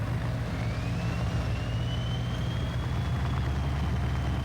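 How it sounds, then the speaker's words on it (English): An APC armoured vehicle in a 16v16 conquest video game match, a steady low engine drone with a faint rising whine running throughout, heard alone without commentary. "Accompanied by an APC."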